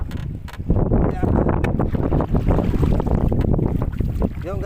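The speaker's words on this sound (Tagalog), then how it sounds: "Medyo lumakas na guys ang hangin no." Strong wind roars and buffets across the microphone aboard a fishing boat at sea, a constant loud rush with water sloshing beneath, while people talk over it.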